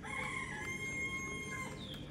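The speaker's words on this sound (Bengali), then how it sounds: "অনেক হাঁস মুরগির ডাক কিন্তু শুনতে পেয়েছো তোমরা আমার এই ভিডিওর আশেপাশে" Chickens and ducks call from somewhere near a room where toy vehicles are being assembled. The calls are faint and sustained, a soft clucking and crowing murmur that runs through the short moment.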